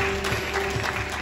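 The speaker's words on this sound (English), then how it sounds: "Come on and give God a hand clap of praise for these young people again." A church congregation clapping hands in praise, a dense, sustained round of applause from many people, steady and moderately loud with no single voice standing out.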